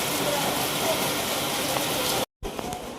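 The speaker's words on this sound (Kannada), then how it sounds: "ಜೋರಾಗಿ ಮಳೆ ಬರ್ತದೆ ಹೊರಗಡೆ." Heavy rain pours down outside a house, making a steady, broadband hiss that holds evenly throughout, broken only by a brief gap near the end.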